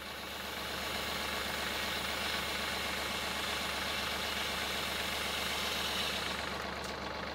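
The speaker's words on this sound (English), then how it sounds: "we'll pull the slack out of the winch first." A winch pulls the slack out of its cable while pulling out a tree stump with snatch blocks, a steady droning motor hum that rises in and holds evenly for several seconds.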